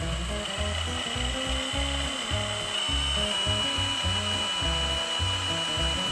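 A power drill bores into thick, old steel on an off-road 6x6 build's fuel tank holders, grinding in a steady, close, loud run with rhythmic low chattering pulses throughout.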